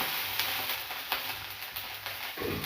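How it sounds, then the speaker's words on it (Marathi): Cumin and ginger-garlic paste fry in oil in an iron kadhai, giving a steady close sizzle with a few sharper crackles and pops throughout and no talking. "हे अल अद्रक लसूणची पेस्ट आहे ना ते पण आपण अर्धा चमच घालून घेऊया छानपैकी तेलात फ्राय करून घेऊया"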